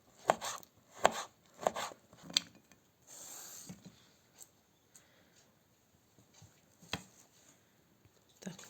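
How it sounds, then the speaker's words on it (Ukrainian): A knife cutting an onion into thin half-rings on a board, a run of sharp close chops in quick succession at first, then sparser single cuts with quiet gaps between them. "Тепер нарізаємо цибульку."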